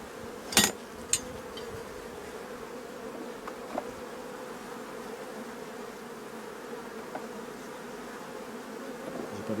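Honeybees buzz steadily around an opened beehive as frames are handled during an inspection, a continuous near drone with a few sharp clicks and knocks early on.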